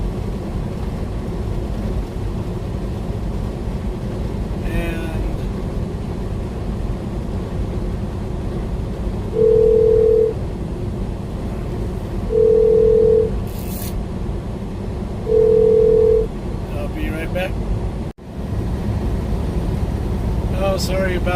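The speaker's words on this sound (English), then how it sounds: "sorry about that phone call. It messed me up pretty good." Telephone dialing tones sound inside a car on the highway near Las Vegas: three evenly spaced beeps stand out over a steady road rumble, followed by a brief crackle and dropout.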